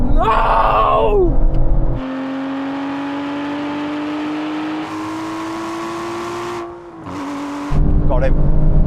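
Aston Martin engine revving hard at a drag race, a loud sustained roar with rising pitch and a gear change, cut briefly near the end before the rumble returns, with crowd voices faintly around it.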